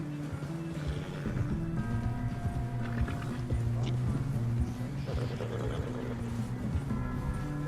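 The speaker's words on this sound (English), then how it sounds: "Get on the horse and ride, cowboy." Horse hooves clip-clop steadily in Red Dead Redemption 2 as the horse is ridden, a continuous rhythmic gait under a droning musical backdrop and players chatting.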